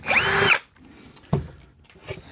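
A power drill with a 1/8 inch bit bores holes during an amplifier build: one loud, steady burst of whining drill noise, then it stops and gives way to quieter knocks and handling sounds.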